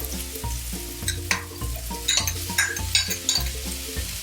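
Tocino and carrots fry in a pan with a steady close sizzle, broken by rhythmic scraping as a utensil stirs them over and over.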